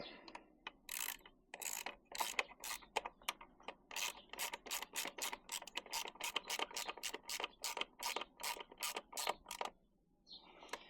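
Ratchet wrench tightening the bolts of an aluminium NiceCNC chain guard on a KTM 390 Adventure motorcycle: a long, steady run of close, crisp clicking strokes, quiet and without talk.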